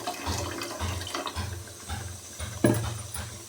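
Soaked tamarind is squeezed by hand in water for a Mandya-style fish sambar, giving a steady run of wet, rhythmic squelches and sloshes, close up with no talking.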